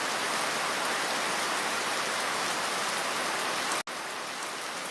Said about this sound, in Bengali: হঠাৎ শুরু হলো এক ভয়ঙ্কর বৃষ্টি